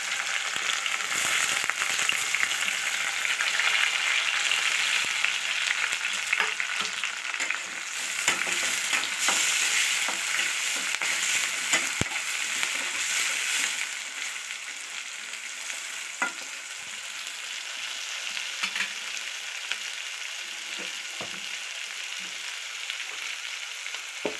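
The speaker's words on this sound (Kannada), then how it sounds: "ಕರಿಬೇವು, ಉಳ್ಳಾಗಡ್ಡಿಯನ್ನು ಹಾಕ್ತೀನಿ." Curry leaves and onions frying in hot oil in a pan for batata palya, a steady bright sizzle with scraping stir strokes throughout, close and continuous without any voices.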